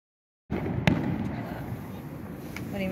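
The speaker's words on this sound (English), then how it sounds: "Custer fireworks. Downtown Custer." Fireworks burst over downtown Custer, South Dakota, with a sharp bang followed by a long, rumbling wash of crackle and booming echoes that fills the outdoor air.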